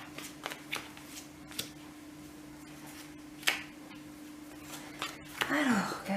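Tarot cards shuffled by hand before a cross-shaped spread, giving soft riffling and sharp snapping flicks at irregular intervals, close and moderately quiet, with a brief louder rustle near the end.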